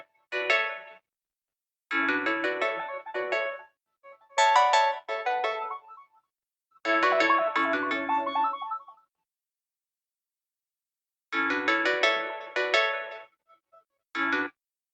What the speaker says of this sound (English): I have a mobile, and I will play a ringtone from the mobile.